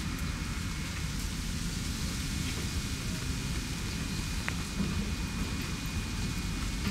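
Steady rain falls in a constant hiss, with a low rumble of distant thunder rolling underneath and a faint tick of drops.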